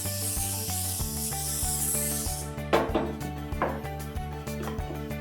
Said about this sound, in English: You're gonna Pam it so that it's easy to clean later